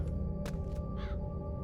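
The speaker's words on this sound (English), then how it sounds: "Maybe it was a bird?" A bird calls in a fantasy game world, with short harsh crow-like caws standing out faintly over a steady low ambient hum and no speech.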